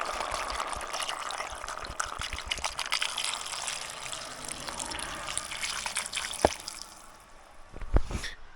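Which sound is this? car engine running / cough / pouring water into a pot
pouring water into a pot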